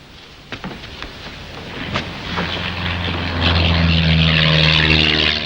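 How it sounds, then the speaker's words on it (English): A low-flying propeller plane approaches over an island at night, its droning engine growing steadily louder and fuller until it roars overhead, with a few faint knocks early on. "That plane's flying low."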